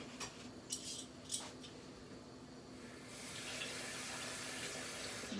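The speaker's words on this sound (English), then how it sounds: "Put a little water in here, just a little bit of water" Water runs in a steady, hissing stream into a pan, preceded by a few faint clinks, close by and without talk.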